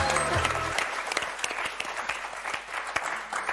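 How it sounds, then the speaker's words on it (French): Studio audience applauding on a French TV word game show, a dense steady wash of clapping filling the whole stretch after a brief tonal jingle at the start. "Chantal, Eric, on vous applaudit très fort."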